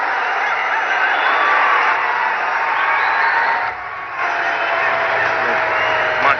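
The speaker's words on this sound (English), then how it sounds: "Every time the ground staff touch the covers, there's a big cheer." A large cricket stadium crowd at an India versus Pakistan Asia Cup match roars and cheers steadily as ground staff handle the rain covers, a dense continuous wash of voices that dips briefly before swelling again.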